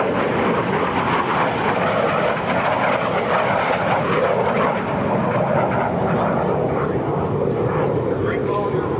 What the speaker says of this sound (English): inbound from your right, here's the Ace Maker, the T-33 Shooting Star.